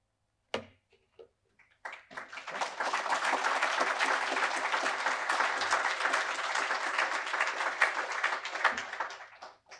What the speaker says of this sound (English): how about another round of applause for Matt Weidinger